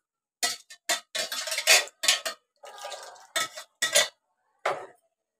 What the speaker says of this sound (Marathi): मिक्सरचं भांडं मी सगळं धुवून घेते